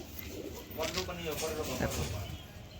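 Soft cooing of Madras pigeons at a loft murmurs through a steady background, with people talking nearby over it.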